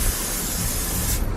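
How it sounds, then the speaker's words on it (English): A steady, close hiss of an aerosol cooking spray held for over a second, then cutting off abruptly. "so I'm just gonna spray it with a little bit of this"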